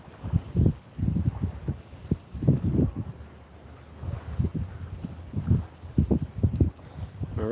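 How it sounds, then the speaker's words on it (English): Gusty wind buffets the microphone at a beach in repeated low, rumbling bursts, loud and close, with no one speaking. "Wow, it is super windy here."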